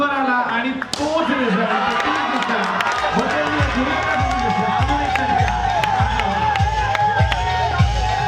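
Crowd at a local cricket match cheering and clapping after a six is hit, a dense continuous roar with rhythmic claps and slaps throughout, while a commentator talks over it.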